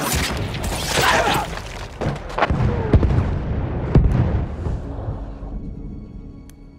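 Enemy artillery barrage in the Battlefield 1 multiplayer Rush mode on a desert map: loud rumbling booms and sharp blasts overlap in a dense wash of noise, then fade into a quieter tail.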